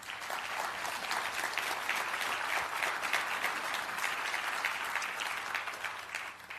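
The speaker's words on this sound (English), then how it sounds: "Please give all of these folks a round of applause." Conference audience applauding, a dense, even patter of many hands at moderate volume, sustained throughout with a faint low hum underneath and no speech.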